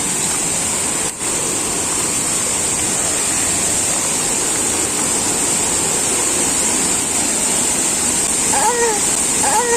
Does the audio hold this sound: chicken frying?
no